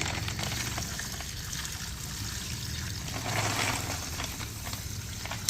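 Water is poured out while rinsing mud off shells, splashing and trickling in a steady rush, swelling briefly louder midway before settling back, with no voices over it.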